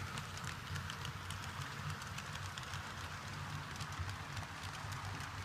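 An HO scale model train rumbles steadily along a layout section, a faint continuous rolling clatter of wheels on track with no one talking.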